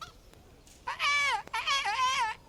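A character in the video game Kingdom Come: Deliverance sings in imitation of birdsong, with two bursts of warbling, wavering whistle-like tones that are fairly loud and alone.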